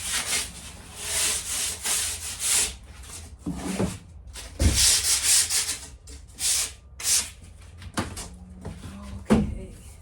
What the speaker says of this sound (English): sand it off a little bit